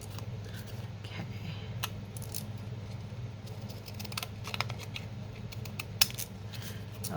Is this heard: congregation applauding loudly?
no